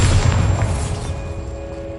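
Bombarda blasting spell from Hogwarts Legacy: a loud, low boom bursts at the start and decays into a rumbling tail over two seconds, with no talk over it.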